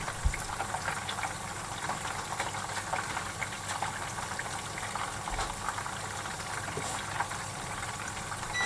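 Miso katsu sauce bubbles at a steady simmer in a pan as it is stirred to thicken, a continuous soft boiling hiss with faint scraping, close and moderately quiet, with no talking.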